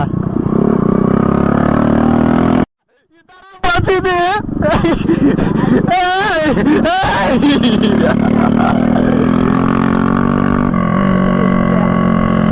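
A motorcycle engine revving hard on a hill road, loud and close, its pitch rising and falling over a steady roar with a brief dropout, while people talk over it.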